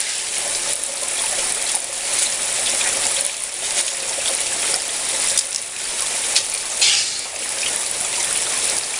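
Water from a 1,000 gallon per hour pump pours steadily through a fluid bed sluice box with a magnetic gold trap, a continuous near rushing and splashing flow with no talk.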